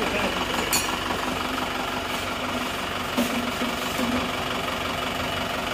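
Isuzu Panther diesel engine freshly rebuilt with a replaced cylinder liner, just started and running with a steady, rough idle and some knocking, close by, with a few faint background noises.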